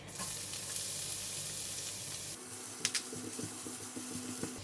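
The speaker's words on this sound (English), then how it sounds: "Gonna add in a bit more oil. Put in the garlic." Garlic frying in hot oil with a busy, close sizzle that settles partway through, followed by a few clinks and scrapes of stirring over the quieter crackle.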